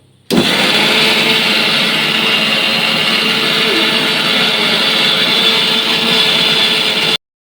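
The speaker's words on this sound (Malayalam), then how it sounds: "ഞങ്ങൾക്ക് മിക്സി പണി തന്നു അരപ്പരക്ക വീണ്ടും അരക്കാൻ പോണു" A mixer grinder grinding a paste starts abruptly and runs loud and steady for about seven seconds, a whining motor roar, then cuts off.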